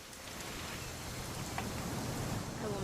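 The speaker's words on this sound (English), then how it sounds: "It's gonna rain the whole weekend, isn't it?" Steady rainfall in the game What Remains of Edith Finch, a faint, even wash of drops on surfaces with occasional light patters, continuing with no talking.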